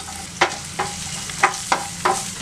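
Ginger and garlic fry in hot oil with a constant hiss, broken by about five sharp, evenly spaced scrapes of a spoon stirring the pan, close and fairly loud with no voice.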